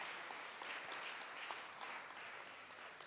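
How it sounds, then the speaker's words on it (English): A church congregation at a Sunday youth service claps in steady applause, soft and somewhat distant, with no voices heard. "Let's give a round of applause."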